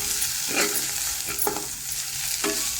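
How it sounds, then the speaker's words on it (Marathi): Onions with spice masala and a pinch of garam masala being stirred in hot oil for a village-style moong amti, with a steady sizzle and about three distinct scraping strokes of the spoon, close and alone. "आता हे छान व्यवस्थित आपण असं हे मिक्स करून घ्यायचं आहे"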